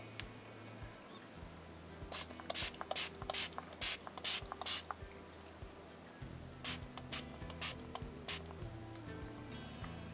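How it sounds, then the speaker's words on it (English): A series of short hissing spritzes from a makeup setting spray bottle, several quick pumps in a row, faint and close, over low background hum. "So yeah, I'm gonna give this a little spray."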